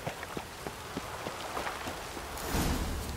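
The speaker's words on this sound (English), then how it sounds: "Looks like rain." Rain falling in The Witcher 3, a soft, steady patter of drops on surfaces with scattered louder taps, faint and fairly close, rising slightly toward the end.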